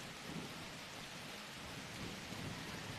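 Steady heavy rain with rolling thunder from the video game Dead Frontier 2, a dense continuous wash with no voices over it.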